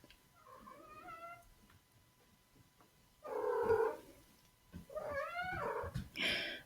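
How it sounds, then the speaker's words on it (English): A domestic cat meows and vocalizes in a quiet indoor space during a meditation, several drawn-out calls at moderate volume with soft gaps between them and no talk. "And my gorgeous cat Lily has come to join the meditation."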